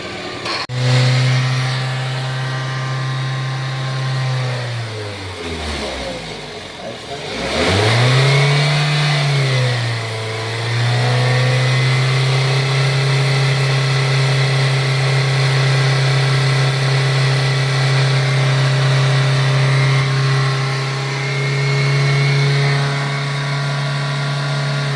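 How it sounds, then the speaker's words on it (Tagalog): A 2008 Toyota Altis engine idles loudly up close after a radiator replacement, dips and revs briefly early on, then settles into a steady, even hum. "In-start. Pinainit ang makina."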